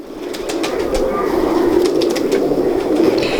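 Teddy pigeons at a breeder's loft coo steadily at close range, a soft continuous burble with faint wing shuffles and light chatter in the background.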